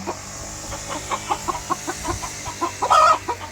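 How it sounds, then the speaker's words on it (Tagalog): A chicken on a small farm clucks in a run of short, close calls, ending in a louder squawk, with a low background hum throughout. "Ang lalaki ng manok mo ah."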